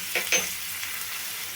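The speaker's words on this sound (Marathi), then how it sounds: "ह्या कांद्यावर आता आपल्याला कडीपत्त्याची पाने टाकायचे" Curry leaves hit onions frying in hot oil, giving two quick crackling bursts right at the start that settle into a soft, steady sizzle.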